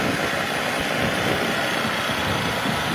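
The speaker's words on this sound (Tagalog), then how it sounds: "Ito pa lang motor na to kusang namamatay pagka nagparada ka tapos igas mo lang." A Suzuki motorcycle engine idles steadily up close, a constant low rumbling drone with no change in pitch and no voices.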